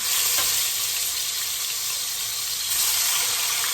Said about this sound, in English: As you can see, it's sizzling nicely there.